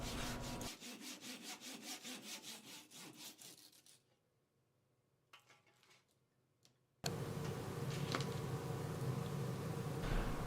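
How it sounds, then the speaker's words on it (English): A saw cuts through the woody exposed part of a spruce cone with quick, evenly rhythmic rasping strokes close by for a few seconds, then stops. Rougher scraping and handling noise follow. "I figured it would be easiest to just saw off the exposed part of the pine cone"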